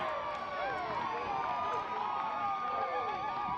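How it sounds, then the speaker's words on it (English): Distant crowd cheering from a youth 9U baseball game on a neighboring field, a steady diffuse murmur of voices and shouts with wavering children's calls drifting over it, faint and continuous throughout. "This cheering you hear is a game going on the adjacent field right behind me here."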